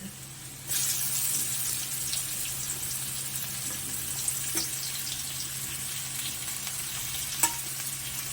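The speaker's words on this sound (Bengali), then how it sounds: "এর মধ্যে পেঁয়াজটা দিয়ে দেওয়া হচ্ছে" Onions sizzle steadily in hot oil after potatoes were fried, a close, continuous crackling hiss with occasional sharper pops and a faint background hum.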